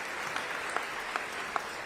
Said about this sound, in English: Let's give Governor Hochul a round of applause